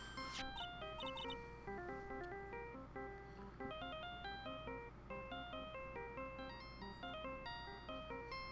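A phone ringtone in the video game Phoenix Wright: Justice for All plays a quick, steady electronic melody of bright stepped tones, repeating on and on at a moderate level.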